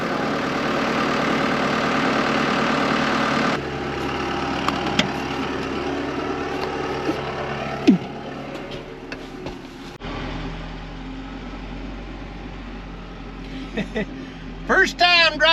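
The engine of a 1993 Peterbilt 359 cabover truck running, a steady rumbling idle that shifts in pitch as the truck starts moving, heard up close with people talking over it.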